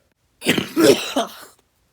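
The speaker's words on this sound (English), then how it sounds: "Yeah, that cough is brutal." Three rough, raspy coughs in quick succession, close and fairly loud, with silence before and after.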